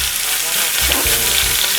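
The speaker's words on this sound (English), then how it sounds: "you're gonna hear that nice aggressive sear" Wagyu picanha searing in a hot pan, a loud, steady, aggressive sizzle heard up close and continuous, with no talking.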